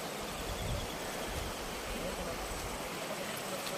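River water flowing in a mountain valley at Digdig, Carranglan, a steady broad rushing wash, fairly loud and continuous, with a voice faintly present underneath.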